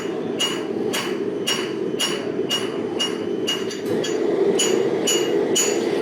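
A hammer strikes hot iron to stretch a forged decorative finial, about a dozen sharp, ringing blows at a steady beat over a constant low rumble of shop noise.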